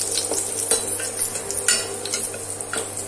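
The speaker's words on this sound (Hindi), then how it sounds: "तो इसमें पहले हम डालेंगे लहसुन की कलियां, क्योंकि हम थोड़ा सा 1-2 सेकंड भून लेंगे इसको" Garlic cloves frying briefly in a pan, a loud close sizzle with bright crackles and spatters and the occasional clink of a spoon stirring, with no talking.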